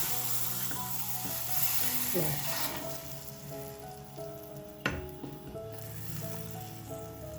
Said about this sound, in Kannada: ಈ ಟೈಮಲ್ಲಿ ನಾವು ಮಾಡ್ಕೊಂಡು ಬಂದಿರೋಂಥ ಒಗ್ಗರಣೆನ ಹಾಕೋಬೇಕು.